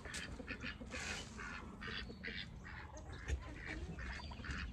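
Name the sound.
ducks quacking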